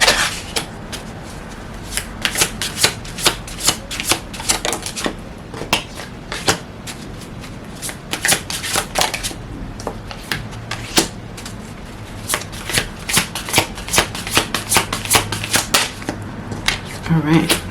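Tarot cards are shuffled and handled during a spring equinox reading. Quick papery flicks and snaps come in a steady rapid stream, close and fairly loud, throughout.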